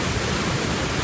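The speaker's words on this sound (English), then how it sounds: "Waterfall." A waterfall on a scenic northern route, heard as a steady, loud, broadband rush of falling water that fills the short moment without any voices.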